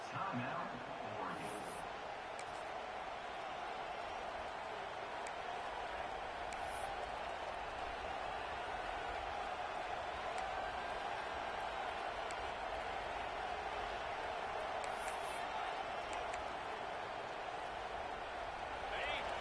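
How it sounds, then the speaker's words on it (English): A college football video game crowd for Oregon versus Ohio State roars in a steady, dense wash of stadium noise on a fourth-down play, constant and loud, with faint voices blended underneath. "This crowd busting the decibel meter and trying to will a fourth down stop"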